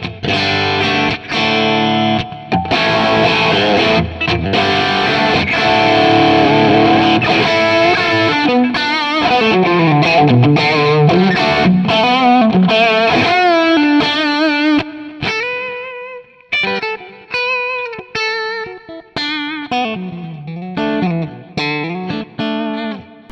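Electric guitar played through a Kemper liquid profile with clean compensation set at 5: loud distorted chords and sustained notes, then a run of melodic single-note lines with bends, alone and continuous.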